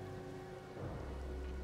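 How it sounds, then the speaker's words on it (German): Steady rain falls in Elden Ring, a dense, even wash of patter that holds for under two seconds and thickens slightly partway through, with no voices. "Oh, nur ein Regen."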